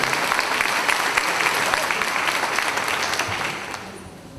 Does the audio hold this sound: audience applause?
yes